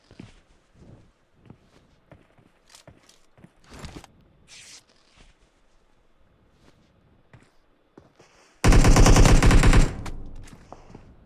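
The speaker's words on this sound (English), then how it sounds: "trying to get shots through that little gap in that window" Automatic gunfire during a 1v1 video game match, a sudden loud sustained burst near the end after scattered quiet footsteps and small clicks, with no talk over it.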